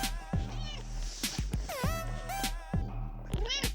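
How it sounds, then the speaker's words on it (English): A cat meows several times indoors, close and fairly loud, repeated in short insistent cries with small knocks and rustles between them. "Again, my cat."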